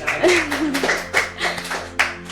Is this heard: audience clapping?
yes